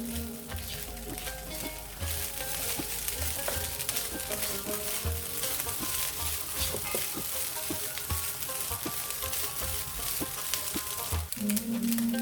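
Chimichanga filling fries in a pan with a steady, close sizzle and crackle, dotted with spoon scrapes and stirring clicks throughout, sustained and even with no voices.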